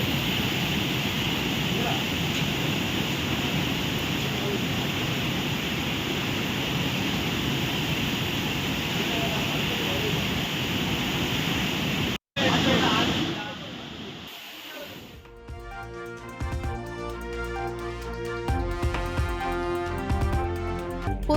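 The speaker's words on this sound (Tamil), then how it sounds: "குற்றால அருவிகளில் காட்டாற்று வெள்ளம் சீறி பாய்வதால் சுற்றுலா பயணிகள் குளிக்க தடை." Flash-flood water roars down the Courtallam waterfalls after heavy rain, a loud, steady rushing torrent lasting about twelve seconds before an abrupt cut to music.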